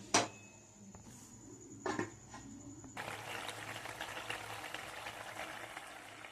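Purple cucumber curry cooking in a little water in a covered pan gives a steady, soft bubbling hiss that grows fuller partway through, preceded by a few brief clinks of pot and lid.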